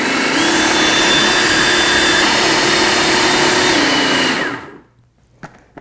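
A blender whirs loudly and steadily, mixing a dairy-free vegan cheesecake filling, then spins down and stops, leaving near silence with a soft knock.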